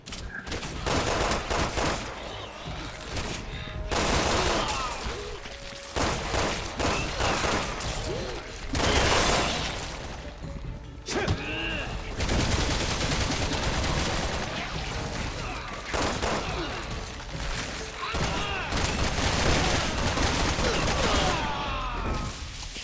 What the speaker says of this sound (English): I shot him 3 times with a sniper rifle